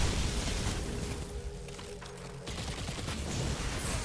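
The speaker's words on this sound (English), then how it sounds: "big enemy firing void at you" Void weapon fire from a big enemy in Destiny 2's Perdition Lost Sector rattles in a steady barrage of shots and booms, loud and continuous throughout with no talk over it.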